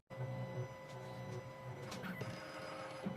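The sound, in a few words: 2M2 Tank2 Pro key machine decoding Citroen SX9 key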